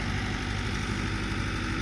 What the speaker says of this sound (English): He gets put up on those stilts so it stabilizes the backhoe, and then he can dig way deep.